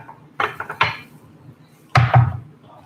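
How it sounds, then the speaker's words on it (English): Knife chopping thinly sliced onions on a cutting board for an oyakodon chicken and egg rice bowl, a few quick close taps in two short bursts separated by a pause. "very thinly cut onions"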